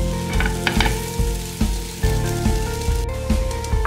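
A thick Chhattisgarh rice roti sizzles in ghee on a pan over a low flame, a close, steady frying crackle broken by soft scrapes and taps as it is turned and pressed.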